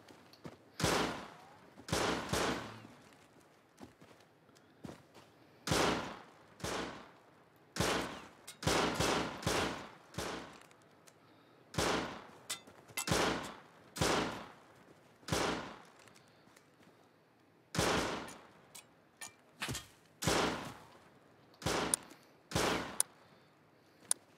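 Pistols firing in a video game: bursts of sharp, loud, rapid shots fired in quick clusters, repeating with short pauses between volleys, clear and close against a quiet background.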